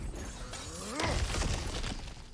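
Cracked ground shattering in God of War Ragnarok: a sudden crumbling break of rock and debris after a brief rising whine, with scattered rubble rattling and settling for over a second.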